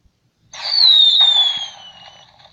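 A single firework at a small fireworks show lets out a loud whistling hiss that glides slowly downward and fades over about two seconds, heard alone against a quiet night.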